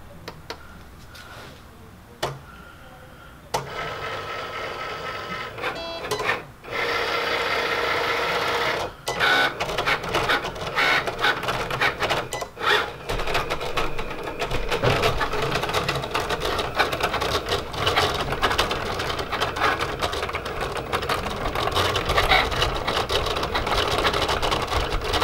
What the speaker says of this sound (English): you're going to hit this button right here, and it's going to start cutting the sticker out for us